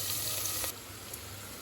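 Onions frying on high heat in a pan for mutton biryani, a steady sizzle that drops slightly in level partway through, close and continuous with no talking.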